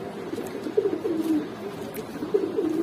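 Rajshahi Giribaz pigeons coo nearby in soft, repeated throaty phrases that rise and fall in short bursts, with light background rustle and no talk.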